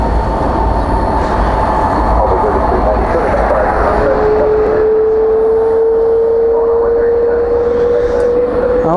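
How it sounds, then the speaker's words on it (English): A Boeing 777 airliner rolling for takeoff at night at Dallas–Fort Worth airport, a loud, sustained engine roar with a rising whine partway through, close and continuous. "Here goes the triple off to Los Angeles. Now rolling on 1A left."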